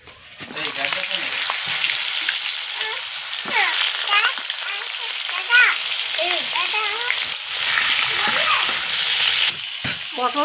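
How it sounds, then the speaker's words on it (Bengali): Pointed gourd (potol) pieces sizzle and spatter steadily in hot oil in a home kitchen, a loud continuous frying hiss with occasional stirring, while a voice talks faintly in the background. "এবার আমি পটলগুলো ভেজে নেব।"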